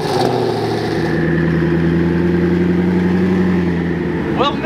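A Koenigsegg supercar's engine runs close by with a loud, steady low rumble and held droning tones, easing off briefly near the end.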